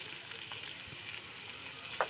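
Fish curry with salt, turmeric and chilli powder sizzles faintly and steadily in a pan, with soft stirring scrapes beneath the low, even frying hiss.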